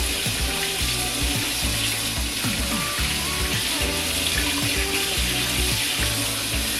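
Extremely hot water runs loudly and continuously from a household tap into a sink, a dense, hissing gush that holds steady throughout with no talking.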